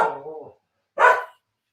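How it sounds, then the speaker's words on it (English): A house dog barks in two short, loud bursts separated by a brief pause, reacting to a camera being set down hard nearby. "I put it down too hard and the dog thinks somebody knocked at the door."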